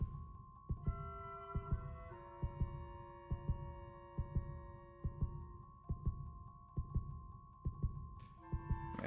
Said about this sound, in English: this freaking heartbeat is making me so freaking nervous